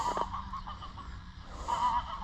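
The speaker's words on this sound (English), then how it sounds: "You can see the Sebastopol geese and some of the ducks there" Sebastopol geese honk a few times at close range, with soft fowl clucking from ducks and faint farmyard background between calls.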